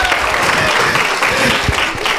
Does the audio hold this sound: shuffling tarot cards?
no